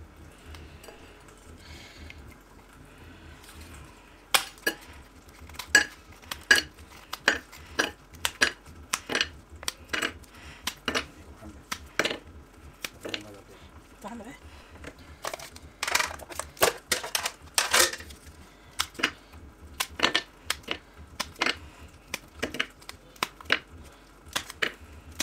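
Frozen lemon cubes dropped into a container, a string of sharp hard clicks and clatters in irregular bursts, close and alone with no talk.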